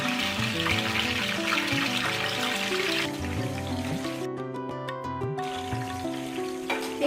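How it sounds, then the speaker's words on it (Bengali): Chicken pieces for murgh pulao frying in a hot pan, a steady loud sizzle with crackling oil throughout, with clinks and scraping partway. "এখন আমি এই পিসগুলোকে উল্টে পাল্টে হালকা করে ভেজে নিব।"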